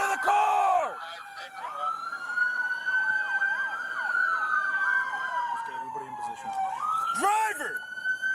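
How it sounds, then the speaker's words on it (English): Police car sirens wail, rising and falling loudly across the whole stretch, with overlapping yelp-like sweeps from more than one vehicle close by at the end of a high-speed chase. "Cut your sirens!"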